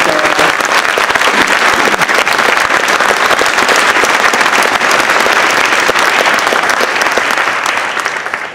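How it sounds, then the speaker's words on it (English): Loud, sustained applause from a concert audience after a wind band performance at the Scottish Rite Masonic Museum, a thick continuous roar of clapping filling the hall from start to finish. "How about a big round of applause for them?"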